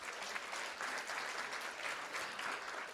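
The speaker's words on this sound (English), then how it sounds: "Let's give them a big round of applause." Steady, fairly faint clapping from a room at a school board meeting, honoring high school students, continuous and even throughout with no voices over it.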